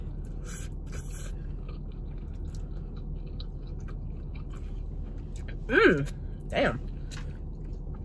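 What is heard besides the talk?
chewing fried cheese rangoons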